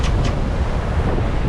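Strong wind at sea in force 6 conditions aboard a sailboat crossing by Corsica, roaring steadily into the microphone with buffeting gusts and the wash of rough water, loud and continuous with no voices.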